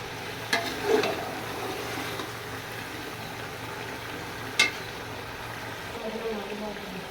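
Chicken with tomato and green chilli stir-frying in a pot for biryani, a soft steady sizzle with a few sharp clanks of a spoon against the pan, as a voice talks over it.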